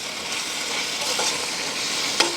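Fish curry in a pan, a dense continuous hiss of frying with faint stirring scrapes and one sharp utensil tap near the end, close and steady, with no talking.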